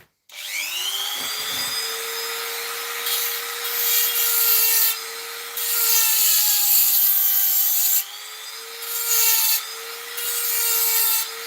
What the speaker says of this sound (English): excuse me, grindy noises for a minute